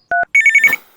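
A telephone rings loudly and close with a short two-tone burst, a brief gap, then a rapid warbling trill that cuts off and fades.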